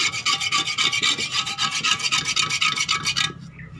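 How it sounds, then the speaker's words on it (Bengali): A clay flower pot scrubbed hard to strip off old moss and soil, making a steady run of rapid, rasping rub strokes close up that stops abruptly near the end. "ঘষে ঘষে পুরনো শ্যাওলা পুরনো মাটি সব ফেলে দিতে হবে।"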